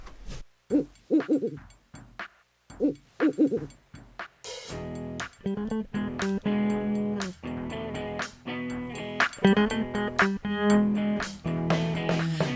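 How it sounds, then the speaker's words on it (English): Two short owl-like hoots open a song mix, followed by a loud electronic drum loop and layered synth tones with a steady pounding beat. "I like the owl hooting at the beginning."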